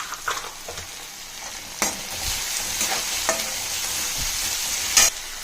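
Curry leaves and garlic fry in hot oil in a pan for an ivy gourd curry, a steady close sizzle broken by several sharp scraping stirs of a spoon, with no voices.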